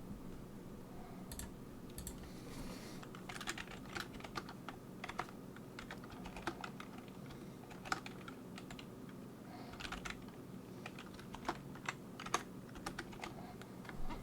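Quiet, steady typing on a computer keyboard, a run of soft close key clicks with irregular rhythm and no voices.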